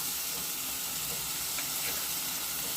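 Onion, garlic and ginger frying in a pan for tomato chutney give a steady, soft, even sizzle that hisses on without a break.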